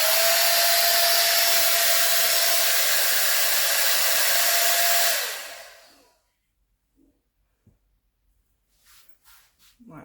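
A handheld hair dryer runs loud and steady with a constant whine for about five seconds, then switches off and winds down, leaving near silence with a few faint soft rustles.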